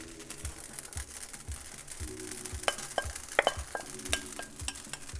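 Rice noodles and chilies sizzle and hiss in a hot pan while being stir-fried for Singapore curry noodles, with periodic scraping and clinks of the utensil against the pan.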